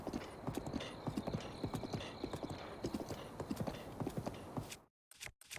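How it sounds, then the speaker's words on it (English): Horse hooves clip-clop at a steady trotting rhythm while riding along a path in Zelda: Breath of the Wild, with game ambience underneath, before the sound cuts out abruptly near the end. "I could just get on my horse and she'll automatically follow the path"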